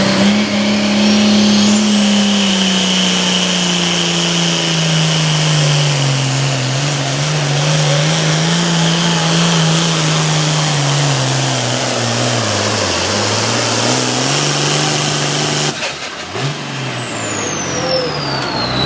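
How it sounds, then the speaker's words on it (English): An International tractor engine roars loud and sustained at a tractor pull, the pitch wavering as it labours along the track, then dropping off with a rattle near the end. "Chad Meselrote went over this tractor in the off season, got it right, and now Todd is loving it."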